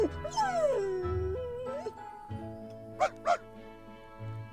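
Puppies yip and whimper in the Reverse 1999 video game, with several short high barks and whines over a soft game music bed, fairly close and moderately loud.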